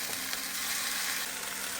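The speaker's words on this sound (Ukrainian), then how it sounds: "Намазала сковорідку маслом і накладаю нашу суміш." A mixture of wild garlic batter sizzles steadily in an oiled frying pan, a close, continuous bright crackle with no talk over it.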